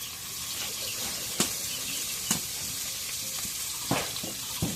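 Oil sizzles in a pan as onions go in for a home-style curry of free-range chicken, green banana and shati fish, a close crackling hiss with a few sharp spits standing out.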